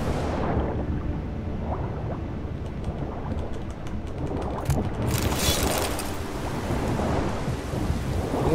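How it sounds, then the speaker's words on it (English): A heavy thunderstorm with rain at sea in the video game The Witcher 3: Wild Hunt, dense rain roaring throughout with deep rumbling thunder swelling strongly in the middle and again toward the end. "Storm, damn it."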